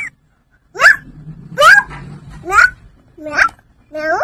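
A small child imitates a cat's meow, giving five short rising-and-falling cries spaced about a second apart, close and fairly loud.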